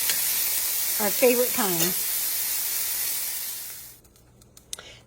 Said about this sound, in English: I am just going to fry that up until the onion is translucent